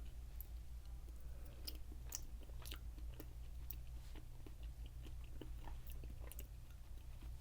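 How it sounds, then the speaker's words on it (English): Close, intimate chewing of jelly-like mochi candy from a Japanese candy kit, with soft wet squishes and small clicking bites repeating steadily over a low, constant background hum. "Mochi is much chewier, has a little bit more resistance to the teeth, to chewing."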